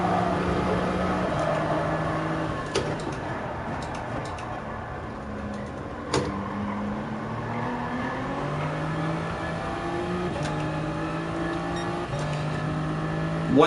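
Race car engines whine in a racing video game, a steady close droning roar that rises in pitch and drops at gear shifts, with other cars' engines blending in and no talking.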